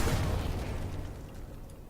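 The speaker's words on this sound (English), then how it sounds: "as I shoot his grenade belt" A grenade belt blows up in Sniper Elite 4, giving a loud, rumbling blast that rolls out and slowly fades over two seconds with no talking.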